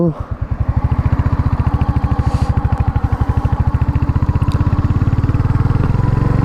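A Royal Enfield Hunter 350 motorcycle's single-cylinder engine thumping loud and close in a steady pulsing beat, revving up from a start as the ride begins, with a voice briefly audible over it.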